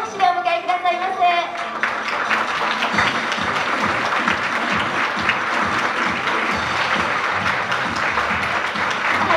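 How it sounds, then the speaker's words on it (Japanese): A crowd at an aquarium's grand reopening breaks into loud applause for a celebrity guest, starting just as an announcer's voice finishes, then a dense, steady wall of clapping that holds for several seconds. "どうぞ皆様盛大な拍手でお迎えくださいませ"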